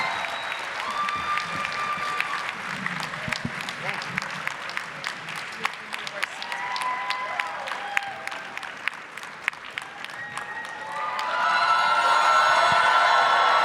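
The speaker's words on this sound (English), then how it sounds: "give a huge round of applause" Applause from an audience at a FanX Salt Lake City Terminator fan convention panel: steady dense clapping that swells louder and fuller toward the end, with some cheering mixed in.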